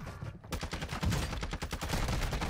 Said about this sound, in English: there's two of them shooting at me